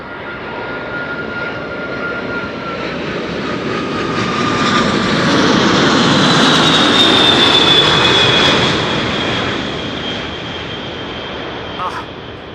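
An airliner with Rolls-Royce jet engines passes at Amsterdam Schiphol Airport, a loud steady roar that swells to a peak midway and then eases off, with a thin whistling tone over the rumble.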